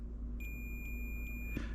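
Short electronic beeps from a continuity tester checking the fourth pin of a wiring adapter while fitting a Keisport PNP to a Suzuki Cara Autozam AZ-1: three quick high tones with a longer one, close and clear over a low steady hum.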